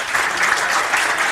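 Audience at a Spanish-language church finance talk applauding, a short burst of dense, even clapping with no voices over it.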